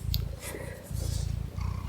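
A cat purrs steadily up close, a low continuous rumble with a brief pause midway, with a few faint higher sounds above it.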